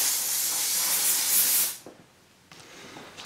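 Mold release aerosol sprayed from a can onto a cut-up plastic mixing cup being made into a simple mold for resin casting: a loud, steady hiss lasting under two seconds, then quiet with a few faint handling clicks.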